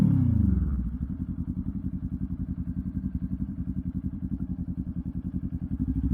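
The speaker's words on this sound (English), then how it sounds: "But hear that exhaust first a little bit." A motorcycle parked after a ride idles with a deep, rhythmic exhaust pulse, loud and close, steady and even throughout after a brief opening rev.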